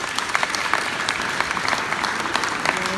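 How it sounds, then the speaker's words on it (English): Wedding guests give a round of applause for the speaker's parents, a close, full burst of many people clapping that runs steadily for three seconds without speech. "So can we give my parents a round of applause?"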